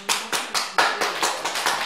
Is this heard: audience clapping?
yes